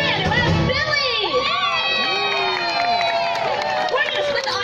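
Audience at a live animal actors show cheers, whoops and shouts loudly for a trained animal star, a dense crowd roar with many children's voices rising and falling.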